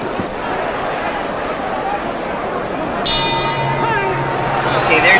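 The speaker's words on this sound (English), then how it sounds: "bell for round 2" A boxing bell rings to open round two at a heavyweight bout, a bright clang with a ringing tail heard once over crowd noise and commentary.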